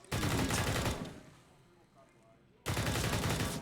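Counter-Strike wallbang gunfire on the Train map during a competitive match: two loud, close bursts of sustained automatic fire separated by a quieter pause with faint background noise.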